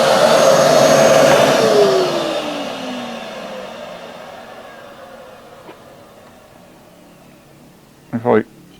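A vacuum pump or shop-vac drawing on the port of a reworked cylinder head with the valve fully closed roars loudly and steadily, then winds down over several seconds into a faint hum, ending with a brief sharp clatter.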